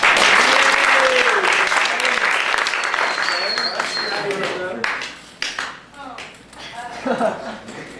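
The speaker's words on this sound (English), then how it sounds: "Let's give him a big round of applause." An audience at a magic show bursts into loud, sustained applause that fades after several seconds as a voice starts talking over the last claps.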